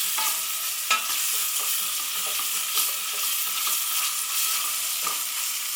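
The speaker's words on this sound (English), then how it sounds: "Then we're going to throw in the sun-dried tomatoes." Sun-dried tomatoes fry in a hot pan with onions, giving a continuous close sizzle broken by repeated scraping stirs of a utensil against the pan.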